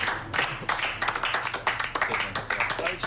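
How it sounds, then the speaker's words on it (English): A small group claps in a round of applause at a Great British Menu finals cooking competition, with quick, close, uneven hand claps lasting a few seconds and voices mixed in. "does that deserve a round of applause?"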